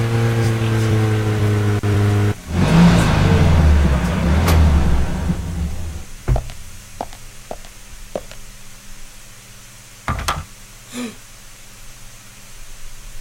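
A car engine in the video game Deadly Premonition roars and revs while driving, with a steady mid-level drone, then a loud surge, followed by scattered knocks and thuds against quieter engine noise.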